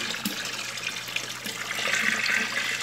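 Three liters of room-temperature water pour into a homemade liquid detergent mix made from bar soap, a continuous splashing gush that swells louder toward the end.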